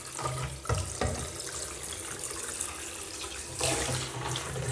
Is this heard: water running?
yes